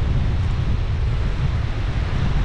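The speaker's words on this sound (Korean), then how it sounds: "바람 소리가 엄청납니다." Strong wind roaring over a microphone on a mountain trail near Gyebangsan, South Korea, a steady, loud, low rumbling buffet that continues without a break and has no voices in it.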